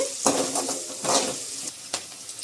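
Dried red chillies fry in hot oil for a semiya dish, making a loud, close, crackling sizzle cut by three distinct scraping stirs of a spoon against the pan.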